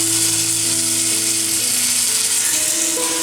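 Onions frying until golden brown in a pan for garlic chicken gravy, a steady, close, even sizzle that continues without a break and without any voices.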